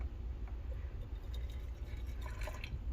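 Hot water is poured into a pot for mixing yarn dye colours, a quiet trickle with small drips and splashes over a low background hum.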